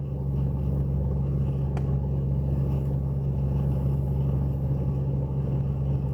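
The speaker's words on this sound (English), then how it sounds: "You're hearing the car." A car's engine rumbling at idle in a car that needs work, a steady low drone that holds constant throughout with no talking.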